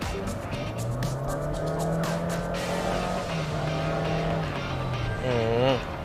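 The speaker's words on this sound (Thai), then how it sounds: "เดี๋ยวลองกดคันเร่งดูนะว่า เวลาเราต้องการเร่งแซงหรือว่าการ ความมันนิดนึงเนี่ยมันตอบโจทย์ได้ดีแค่ไหนนะครับ" A Honda City Hatchback e:HEV accelerates hard from about 60 km/h, its engine note rising steadily in pitch with a surge near the end, heard from inside the cabin with someone talking over it.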